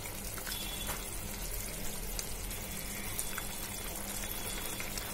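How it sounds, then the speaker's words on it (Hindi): Carrot halwa (gajar ka halwa) sizzles and bubbles in a pan as it is stirred, a steady, soft crackling and scraping texture with no voices. "चलाते रहें ताकि हमारा जो गाजर का हलवा है वो जले ना"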